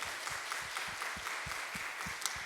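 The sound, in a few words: church congregation applauding the worship team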